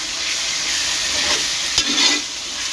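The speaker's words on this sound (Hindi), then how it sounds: "ये बीफ कीमा है बचिया का, और इसको डाल के इसको हम थोड़ा सा हिलाएंगे, इसमें हल्का सा भूनेंगे इसको" Beef mince frying in oil with onion in a pan while being stirred, a steady close sizzle with a brief scrape of the spoon near the middle and no voices.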